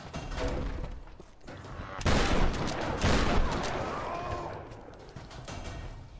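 Shotgun blasts in the Tomb Raider video game, two heavy booming shots a second apart amid gameplay noise, with a player's voice talking around them.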